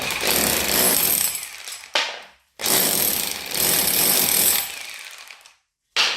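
A hammer drill set to hammer mode chisels a channel into a wall for wiring. It gives loud, rattling percussive bursts in two long runs separated by short silent pauses, close to the microphone.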